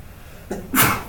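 A single sharp sneeze, close and fairly loud, preceded by a brief intake of breath.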